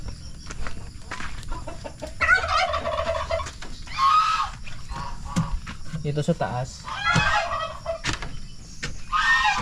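Turkeys gobble and fowl call on a small farm, with bursty calls in short repeated bouts around nearby chickens; someone talks in between and over the birds.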